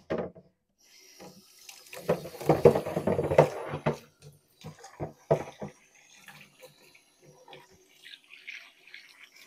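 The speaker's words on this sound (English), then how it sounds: "I'm going to do a cold water rinse." Cold water rinse running for felting knitted wool, splashing and rubbing at a sink in bursts, louder for the first few seconds, then quieter intermittent swishes and drips.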